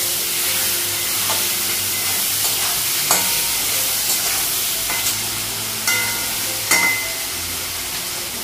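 Potato and pointed gourd frying with onion in a wok, a steady loud sizzle throughout, broken by several sharp scrapes and clicks of stirring. No voices.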